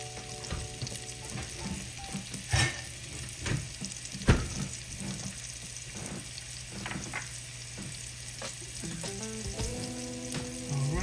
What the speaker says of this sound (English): now we're going to get our onion sauteed